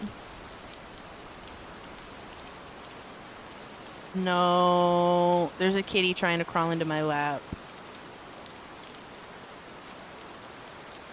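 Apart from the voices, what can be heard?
rain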